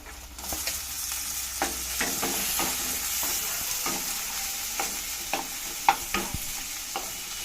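Tomatoes hiss continuously as they fry while a utensil knocks and scrapes against the pan again and again, several sharper clanks standing out near the end.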